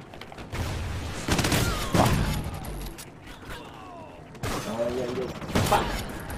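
Bursts of gunfire crackle during a Call of Duty: Ghosts match, with rapid shots in two clusters separated by a quieter gap. Excited voices talk over the shooting.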